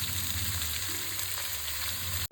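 Mixed vegetables for a vegetarian curry frying on a high gas flame: a dense, loud, continuous sizzle fills the whole stretch, ending in an abrupt brief cutoff, with no voices.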